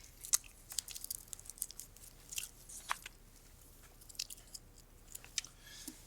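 Quiet, close chewing and biting of food, with soft crunchy and squishy mouth sounds repeating irregularly over a near-silent background.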